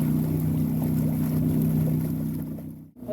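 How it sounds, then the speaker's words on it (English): An outboard engine runs on a 5 metre sailing dinghy at sea, a loud, steady low drone with constant water rush that dips sharply near the end before picking up again. "It was the right decision keeping the engine on, the wind's shifting all over the place."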